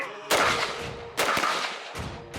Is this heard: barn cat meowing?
no